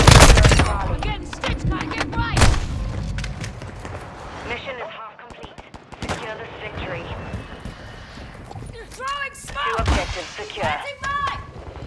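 Gunfire in the shooter Call of Duty Modern Warfare II: dense, loud bursts of automatic and single shots crack repeatedly at close range, mixed with combat radio callouts and voices talking over the shooting.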